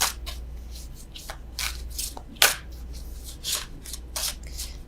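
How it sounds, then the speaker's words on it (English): Tarot cards being shuffled by hand, a close series of crisp riffling and slapping bursts with one sharper snap midway, no talk. "I don't know why I'm still shuffling these."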